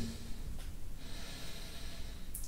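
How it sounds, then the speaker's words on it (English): Slow, deep yoga breathing flows through the nose in a long, airy inhale-exhale, close and soft against a low background rumble, with no speech. "Deep breathing."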